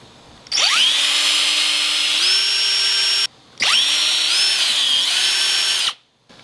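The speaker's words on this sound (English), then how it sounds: "Now I gotta drill some holes, mount this baby up" Power drill boring mounting holes into a boat, two loud sustained bursts of whining motor with rising pitch as the bit bites, separated by a short pause, close up with no talk.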